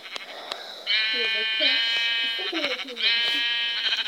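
Sheep bleating in the video game Minecraft, several nasal, buzzy bleats in quick succession, with a voice talking faintly underneath.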